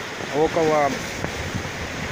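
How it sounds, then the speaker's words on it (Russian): Strong southerly wind gusting at a river in the Arctic, a steady broadband rush and buffeting against the microphone, with someone briefly speaking over it. "Идет такой южный ветер"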